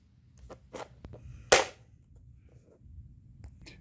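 The latch on a Klein Tools Modbox bit case snaps shut in one loud, sharp click, close by, surrounded by a few faint plastic taps and handling noises.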